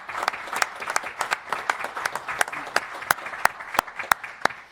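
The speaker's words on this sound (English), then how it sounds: "I'd like to ask for a round of applause for Jennifer Hoisington." Applause at a city council meeting in O'Fallon, Missouri, for Jennifer Hoisington: a modest gathering claps with distinct, separate handclaps standing out from a light patter, fairly close and steady for the whole stretch.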